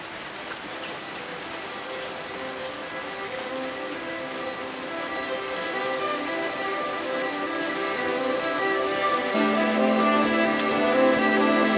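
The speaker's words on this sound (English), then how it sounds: "it is raining" Steady rain falls on a surface during a walk through a village in Kailua-Kona, a dense, even hiss with scattered drips that swells slightly louder over time and runs continuously with no talking.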